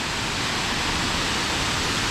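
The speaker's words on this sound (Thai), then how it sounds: "นี่คือบรรยากาศน้ำตกอยู่แค้มทางระหว่างทาง ที่ไปเมืองคาสเบกิเนาะ" A roadside waterfall on the road to Kazbegi, Georgia, fills the air with a loud, steady, broadband rush of falling water, close and unbroken, with no talking.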